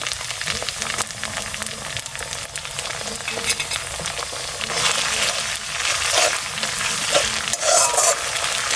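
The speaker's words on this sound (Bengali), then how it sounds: "আদা রসুনের কাঁচা গন্ধটা যতক্ষণ না যাচ্ছে ততক্ষণ পর্যন্ত কষিয়ে নেব" Ginger garlic paste with green chili paste sautéing in hot oil, a steady close sizzle with repeated spoon scrapes and stirring, growing louder in the last few seconds.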